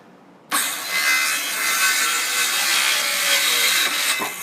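A hand saw cuts through wood for farmhouse-style shutters, starting abruptly and continuing as a close, steady run of rasping strokes for about four seconds with no talking.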